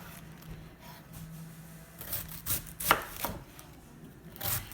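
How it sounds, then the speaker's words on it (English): A knife chops cabbage finely for sauerkraut, producing a handful of close, crisp, uneven thuds on a board with a soft rustle of leaves between strokes. "And I like to just chop my cabbage fine."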